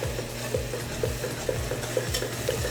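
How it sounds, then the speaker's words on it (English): A spoon scrapes steadily around a saucepan, stirring baking cocoa into melted butter in quick, regular strokes, with a faint sizzle beneath. "take some of our baking cocoa, add it to the butter, mix it through"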